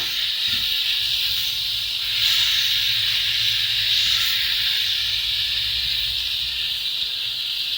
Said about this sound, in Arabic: انا هنزل بالثوم الني، الثوم المفروم اهو، وهقلبه بقى معاه.